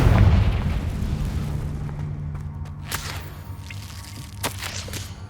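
A Confringo blast explodes in Hogwarts Legacy, opening with a heavy booming detonation that fades into a rumbling decay, followed by a few sharp pops and thuds in the game's combat.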